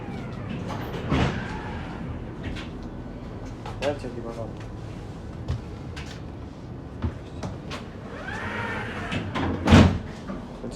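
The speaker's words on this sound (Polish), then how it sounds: "Drzwi się dość szybko otwierają i zamykają w tym tramwaju." Tram doors slide and thud shut quickly a few times amid vehicle rumble and interior noise on an MPK Łódź tram, with a person talking throughout.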